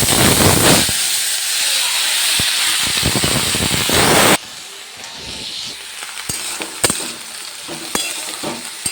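Panch phoron and bay leaves fry in hot oil with a loud, dense sizzle and spitting that drops abruptly to a quieter, crackling simmer punctuated by sharp pops and utensil taps.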